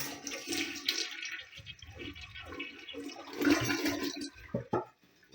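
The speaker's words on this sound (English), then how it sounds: "we're going to flush that" A toilet being repaired is flushed nearby, with water rushing and gurgling in uneven surges that fade toward the end, heard alone without talking.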